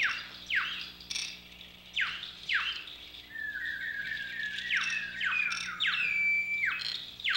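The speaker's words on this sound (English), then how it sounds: "the musical calls of tropical birds" Tropical birds call repeatedly in a grove of sal trees, sharp descending squawks alternating with a thin trilling chirp, fairly close and alone.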